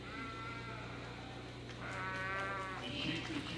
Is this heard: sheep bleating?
yes